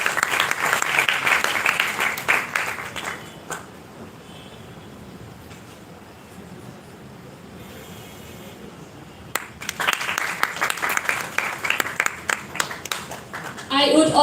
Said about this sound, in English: Please, can we get some round of applause for our special guest?